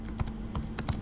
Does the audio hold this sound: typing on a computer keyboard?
yes